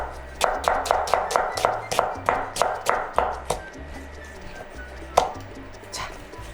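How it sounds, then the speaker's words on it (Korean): A knife cuts half an onion into thin julienne strips on a cutting board in a home kitchen, giving a steady series of quick, close chopping taps that slow toward the end. "채 썰어서 준비해 주시고"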